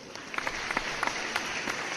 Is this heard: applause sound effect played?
yes